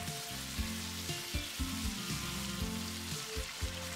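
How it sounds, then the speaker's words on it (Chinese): Garlic, ginger, scallion, Sichuan pepper and dried chilies stir-fried in hot oil with hotpot base sizzle steadily, with repeated scraping stirs of a spatula in the wok, close and alone. "炒出香味。"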